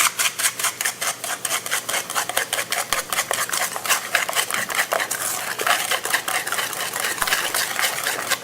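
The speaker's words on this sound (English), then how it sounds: "And then I'm going to mix it. Whisk." Eggs are whisked in a bowl at close range, making a fast, steady train of light metallic clicks and taps that runs without pause and with no talking.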